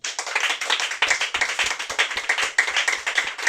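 A church congregation claps together during a service, a dense, steady wash of many hands with regular rhythmic accents, close and lively, without speech.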